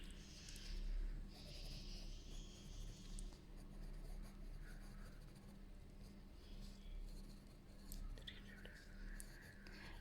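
Pen writing by hand on paper while analysing orthodontic casts in occlusion, a steady scratchy scraping that runs through most of the stretch, close and fairly quiet, with soft breathy noises alongside.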